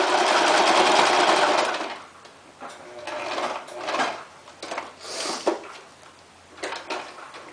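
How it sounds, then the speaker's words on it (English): A sewing machine runs fast and loud for about two seconds while it stitches a straight line across fabric. Then come shorter bursts of stitching and the clunks of the machine being handled. "you're just going to take that and just sew it straight across"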